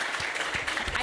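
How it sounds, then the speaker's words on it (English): Audience applause at a panel discussion on foreign policy, a steady dense patter of many hands clapping throughout, moderately loud and continuous with no voices over it. "I think you're applauding for Costanza."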